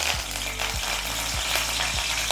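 Pandan and curry leaves hit hot oil in a pot, a steady broadband sizzle and crackle with a few low thumps from stirring, continuous and close throughout.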